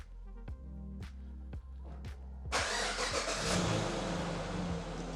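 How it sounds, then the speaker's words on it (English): A vehicle engine cranks over several short starter pulses, then catches and settles into a steady, loud running roar after a remote start during a 12-volt battery startup test, with no talking. "So now I'm going to use the remote start to start the vehicle."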